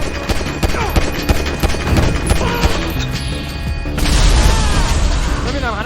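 Gunfire and a car explosion in the video game GTA V: rapid bursts of shots and crashing impacts over a continuous loud game soundscape, with a heavier booming blast near the end.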